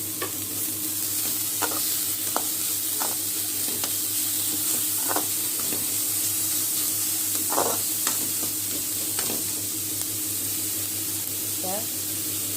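Grated carrot is stirred into sautéed onions in a pan, a soft steady sizzle with repeated scraping stirs of a spoon, a voice speaking faintly in the background.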